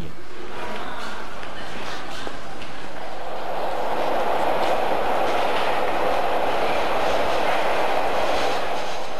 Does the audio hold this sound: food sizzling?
no